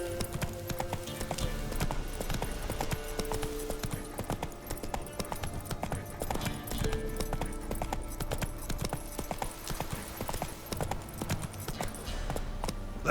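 Roach the horse's hooves clip-clop steadily and close in The Witcher 3: Wild Hunt, a continuous trotting rhythm with game music faintly underneath.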